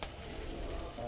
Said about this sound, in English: Chicken sizzling.